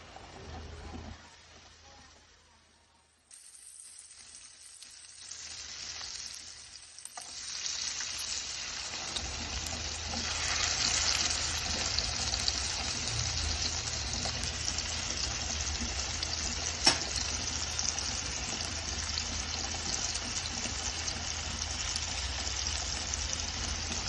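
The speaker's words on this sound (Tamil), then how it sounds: "இது நான் இப்போ ஷாலோ ஃப்ரை தான் பண்ண போகிறேன். அதனால் கொஞ்சமாக ஆயில் விட்டுட்டு" Seer fish (vanjeera) shallow frying in a little oil on a tawa: a quiet start gives way to a steady, close, continuous sizzle that holds evenly to the end.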